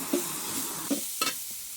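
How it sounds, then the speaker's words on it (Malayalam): Sliced onions and green chillies fry in a pan for Kerala beef curry, a soft, steady sizzle broken by three or four quick scraping strokes of a spoon. "സബോള, പച്ചമുളക് ഇട്ട് നന്നായി ബ്രൗണിഷ് കളറാവുന്നത് വരെ ഇളക്കി നന്നായി ബ്രൗൺ കളറാവണേ"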